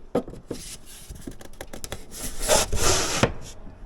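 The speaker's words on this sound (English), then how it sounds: "I can simply pull the divider out and adjust it" A wooden divider is pulled out of a dado slot in tool storage shelving, making a few close knocks and then a rising scrape of wood sliding against wood.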